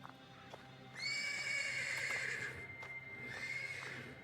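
A horse neighs and whinnies in a video game stable, a long shrill call rising and falling, then a second shorter whinny, with faint hoof clops in the background and no talking.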